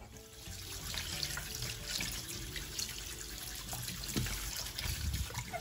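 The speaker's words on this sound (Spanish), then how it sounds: "lo que voy a hacer es lavar el pulpo" Kitchen tap water runs continuously over an octopus being washed in a sink, a steady splashing rush with trickling and occasional heavier splashes, close and alone.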